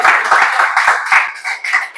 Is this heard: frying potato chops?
no